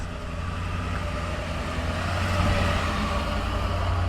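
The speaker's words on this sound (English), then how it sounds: "Here comes a loud truck." A loud truck passes on a road, a broad steady roar that swells slightly toward the end, heard alone without talk.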